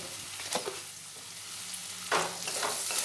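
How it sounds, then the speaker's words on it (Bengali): Salted onions frying in a pan, a steady hissing sizzle with a couple of brief stirring scrapes, close and continuous. "আরও কিছুক্ষণ পেঁয়াজগুলো ভেজে নেব"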